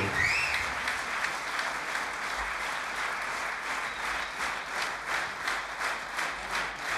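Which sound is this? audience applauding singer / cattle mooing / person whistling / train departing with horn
audience applauding singer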